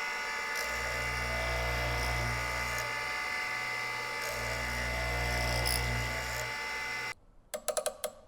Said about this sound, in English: I'm going to use this little mounted point, and I'm going to plunge through and just finish creating that rake angle on the face of the tooth